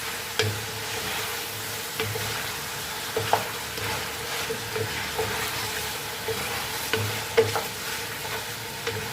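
Vegetables and fish fillet are stirred in a hot pan, with a soft continuous sizzle and periodic scraping and knocking of the spatula at irregular intervals.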